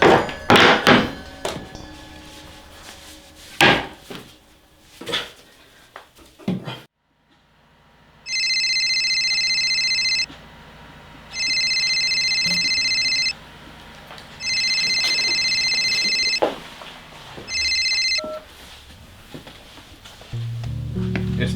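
A telephone rings four times in steady bursts, loud and close, with brief pauses between rings, after a stretch of thumps and movement noises.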